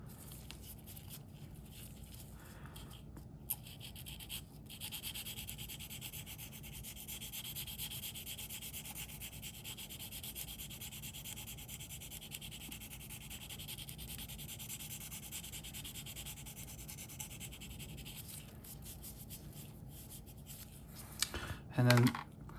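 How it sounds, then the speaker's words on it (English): Quiet, steady scratchy rubbing of a 240 grit sanding stick on a plastic model kit, continuous strokes close to the microphone, with a few small clicks and knocks near the end. "I use primarily for the sanding, I'll use these sanding sticks"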